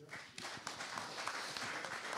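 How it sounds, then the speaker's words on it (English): Faint, scattered audience clapping at a mental health talk, a light patter of individual claps building quickly from near silence and continuing at low volume. "Give me a clap,"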